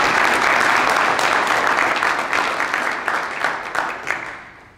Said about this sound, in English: I wanted to get a big round of applause for everyone that's helped me along the way